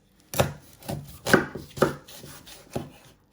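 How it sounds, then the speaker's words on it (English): A knife chops through an onion on a cutting board in a home kitchen: about five distinct, spaced knocks against the board, close and moderately loud, with no voices. "Then you're going to chop your other ends off."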